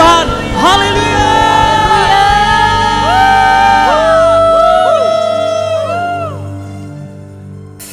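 At a church worship service, a congregation raises loud, sustained whoops and cheering shouts with rising and falling voices layered over each other, the noise tapering off toward the end.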